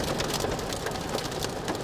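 Hail and heavy rain batter a storm-chasing car during a severe spring storm, a dense, steady roar of impacts on the roof and glass with no letup.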